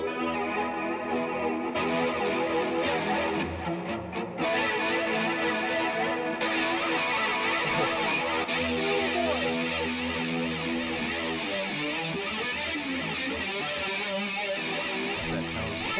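An electric guitar played through a modulation effects pedal set to a sine-wave chorus with depth turned up, giving a continuous, shimmering, wavering sustained tone that fills the whole stretch without pause.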